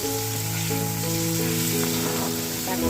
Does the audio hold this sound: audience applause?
no